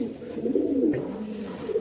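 Rajshahi Giribaz pigeons coo softly and steadily at close range, a low murmuring warble running throughout with no voices over it.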